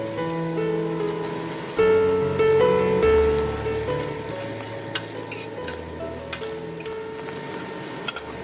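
Minced meat stir-fries with chopped chili bean paste and fermented black beans for mapo tofu, a close, continuous sizzle under scraping spatula strokes and light ticking clicks, steady throughout with no talking.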